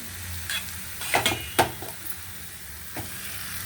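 Mushrooms and potatoes frying in oil in a pan, a close, continuous sizzle broken by a few sharp stirring scrapes and crackles.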